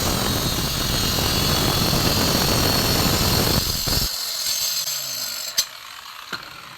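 A stone-cutting machine grinds a marble stair moulding stick, a loud continuous mechanical whine and rasp that stops abruptly partway through, leaving a quiet room with a couple of sharp knocks.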